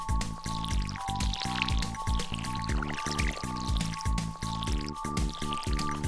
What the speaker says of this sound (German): Es geht erstmal ans Gießen.